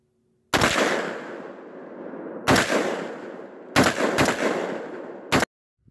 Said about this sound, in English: he's shooting a AR-10